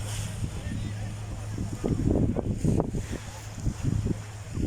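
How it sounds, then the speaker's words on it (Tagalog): Blustery wind roars against the microphone while waves churn and surge nearby on an overcast day at the Kuwait City seaside, a steady loud rumble with gusty swells. "Malakas ang hangin at makulimlim siya kaya maalon."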